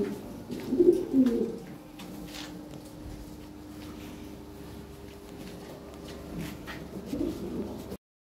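Lahore Siraji pigeons coo softly from a nearby loft, one throaty burst early on and a quieter coo near the end, over a faint steady hum and occasional light clicks.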